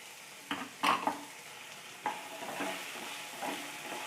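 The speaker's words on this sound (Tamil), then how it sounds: "இது எல்லாத்தையும் போட்டு நல்லா ஃப்ரை பண்ணிக்கலாம்." Capsicum, spring onion and peas fry together in a pan for masala pasta: a soft ongoing sizzle broken by several close scraping stirs of the spatula.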